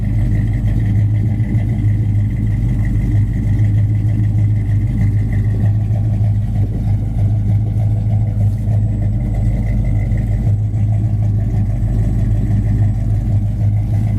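A restored Chevelle with a dual exhaust system idles steadily, a deep, close-up rumble with a strong low throb that stays even throughout and is heard alone without talk.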